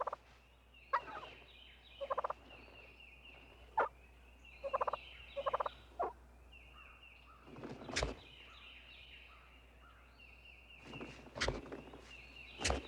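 A wild turkey tom gobbles in short bursts, several rattling calls spaced across the stretch, with a few sharp clicks and rustling footsteps between them and a low steady hum beneath.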